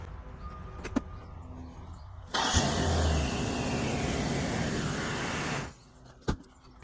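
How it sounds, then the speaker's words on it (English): A 1997 Ford Explorer V8 cranks and catches, then settles into a loud, steady idle for several seconds before cutting off abruptly, with brief clicks and knocks before and after. "now we're going to crank it to make sure she runs"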